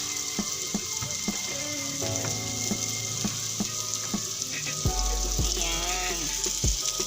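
Beefloaf stir-fries in a hot pan, a steady sizzle and crackle with scattered clinks of a utensil against the pan and a burst of louder frying near the end.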